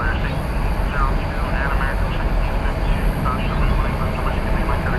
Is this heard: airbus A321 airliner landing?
yes